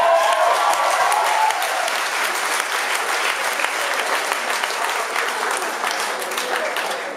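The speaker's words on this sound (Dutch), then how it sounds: "Een aanmoedigend applaus voor Peter?" Encouraging applause from an event audience greeting someone called up on stage, loud dense clapping that holds steady and eases slightly toward the end, with no talk over it.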